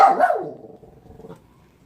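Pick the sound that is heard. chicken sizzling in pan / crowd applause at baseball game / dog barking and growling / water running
dog barking and growling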